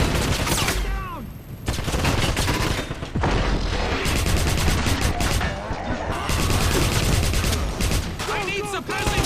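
Dense gunfire in the Wolfenstein 2009 video game: rapid bursts and overlapping shots, loud and continuous, with voices shouting over the fire.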